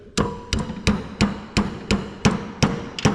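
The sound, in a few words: tapping 12mm socket onto valve seat to seat spring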